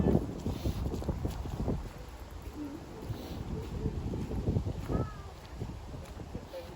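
Breezy, moderate wind blowing outdoors in a London park in November, a steady rushing wash with gusts swelling and easing, with nearby voices faintly heard over it.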